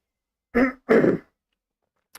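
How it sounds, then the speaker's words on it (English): Two short throat-clearing bursts, close and moderately loud, separated by a brief pause, followed by near silence and a tiny click at the end. "Sorry, I had to clear my throat again."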